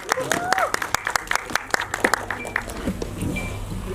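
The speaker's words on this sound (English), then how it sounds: "Can we have a huge round of applause?" Scattered hand claps break out among the crowd at a film press conference, a thin applause of sharp, uneven claps that thins out after a few seconds while voices carry on in the room.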